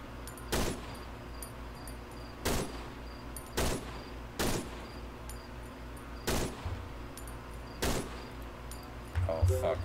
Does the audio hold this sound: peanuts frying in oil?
no